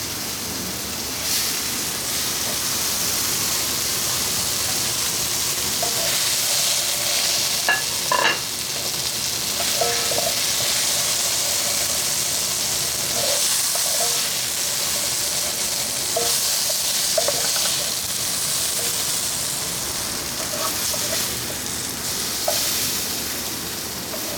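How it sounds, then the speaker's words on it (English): Green peppers, onions and mushrooms sauté in a pan with a loud, continuous, rain-like sizzle and occasional faint clinks of stirring throughout. "your peppers, your onions, and your mushrooms are ready. So you got them nice and sauteed."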